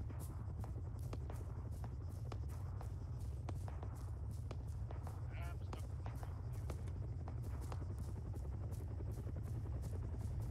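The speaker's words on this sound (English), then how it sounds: "there's a friendly helicopter" A friendly helicopter in the Arma 3 video game, its steady low rotor throb droning continuously throughout, with sharp footstep-like clicks and a voice faintly over the top.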